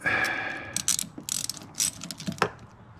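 Ratchet wrench tightening a catch can on a 2024 Mustang GT, quick bursts of metallic clicking in short strokes, close and alone.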